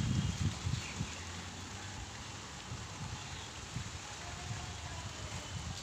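Heavy evening rain with thunder and lightning pours steadily, a dense, even hiss broken by a few low rumbles near the start.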